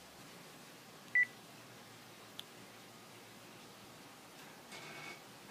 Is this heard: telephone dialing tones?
yes